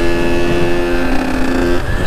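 A Kawasaki KX 85 dirt bike engine runs steadily during a ride, a close, loud buzzing tone holding a constant pitch with a slight dip near the end, with no talk over it.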